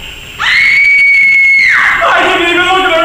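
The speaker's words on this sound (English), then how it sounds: "I'll scream bloody murder." A woman lets out a loud, sustained high-pitched scream that holds steady and then breaks into a wavering, shrill cry, with no other sound competing.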